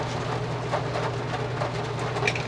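Steady rain pouring down at a campground in Virginia, a dense continuous hiss of drops with a low rumble underneath, constant and fairly loud with no talk.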